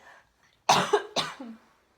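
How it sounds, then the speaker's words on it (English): Two sharp, loud coughs in quick succession, close by, with a brief pause between them and quiet before and after. "I'm gonna cough again, I'm so sorry"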